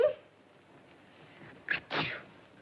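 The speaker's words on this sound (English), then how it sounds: "My goodness, she sneezed." A quick, sharp sneeze in two bursts, a short intake then a louder snap, close by against a quiet background.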